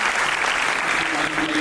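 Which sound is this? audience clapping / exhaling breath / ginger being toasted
audience clapping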